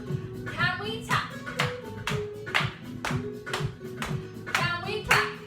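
Small children in a creative dance class for ages two to five tap along in a steady rhythmic run of light hits, heard under an adult's voice and some children's chatter with a low musical bed underneath.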